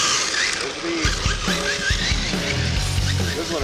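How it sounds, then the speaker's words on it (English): A small RC Dodge Charger drift car without a gyro sliding across a surface, with repeated short tire squeals and skids over a whirring electric motor, close and loud. "This is what a real drift car does."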